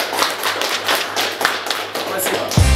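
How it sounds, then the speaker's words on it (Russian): An audience at a Tough Fight league boxing weigh-in ceremony bursts into dense, continuous applause under a low hum, ending in a heavier thump. "Давайте аплодисментами поприветствуем на начало года"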